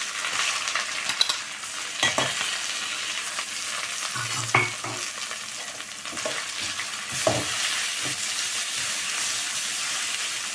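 Raw mango pieces fry and sizzle steadily in a hot pan, with a spoon scraping and stirring through them every second or so, the crackle continuous and close.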